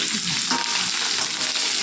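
Green chillies and cashews crackle in hot tempering oil for curd rice, giving a dense, even sizzle with small pops, close and alone.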